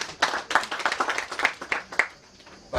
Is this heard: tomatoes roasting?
no